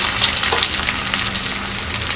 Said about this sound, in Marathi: आता कांदा फोडणीला देणार आहे